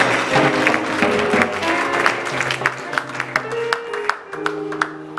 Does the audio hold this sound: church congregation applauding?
yes